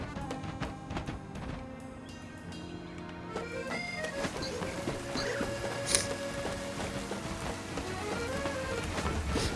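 Rain patters in the video game Pokémon Legends Z-A, a steady drizzling hiss of drops with game music and scattered effect tones layered over it, growing fuller after a few seconds.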